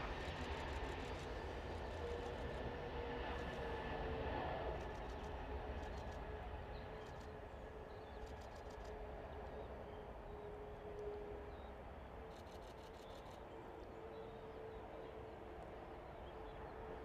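An EasyJet airliner takes off at Manchester Airport, a steady broad jet roar that holds at even loudness throughout, with a faint tonal whine running over the top.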